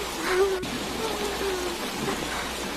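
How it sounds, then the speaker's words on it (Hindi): Heavy downpour pours steadily as a dense, even hiss of falling rain, with a faint low tonal hum running underneath throughout. "मूसलाधार बारिश हो रही थी।"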